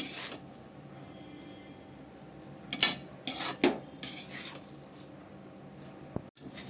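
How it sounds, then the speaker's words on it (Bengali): Veg chow mein is tossed with magic masala in a pan, with a short burst of clattering utensil scrapes against the metal midway through an otherwise quiet stretch. "তারপর আবারও সব কিছু চাউমিনের সাথে ভালো করে আমি মিক্স করে নেব।"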